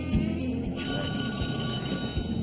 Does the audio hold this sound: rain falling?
no